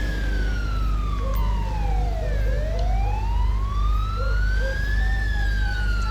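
A police siren in Grand Theft Auto V sweeps down then up in pitch over a steady low engine rumble, loud and continuous throughout.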